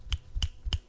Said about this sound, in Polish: pstrykanie palcami właśnie